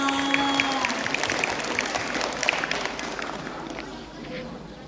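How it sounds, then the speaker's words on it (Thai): Audience applause at a Thai school award ceremony for Sunthorn Phu Day, a broad wash of clapping and crowd noise with a voice briefly audible at the start, fading slightly toward the end. "ขอเสียงปรบมือหน่อยค่ะ"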